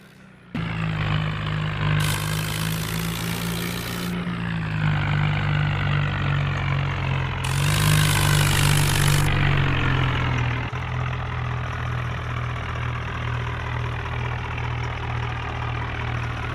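A tractor engine idles steadily in a farming simulation game, a low rumbling drone held for the whole stretch, with short bursts of brighter hiss over it at a couple of points.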